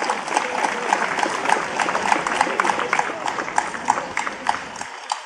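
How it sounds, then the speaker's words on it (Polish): Festival audience applauding as prize sponsors are invited onto the stage, loud rhythmic clapping that sounds somewhat in unison and continues steadily, tapering slightly toward the end. "Fundatorów nagród chyba czekają na brawa, drodzy państwo."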